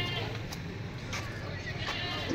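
Goats bleating in a livestock pen at a post-Eid animal market, cries rising over a constant crowded background din.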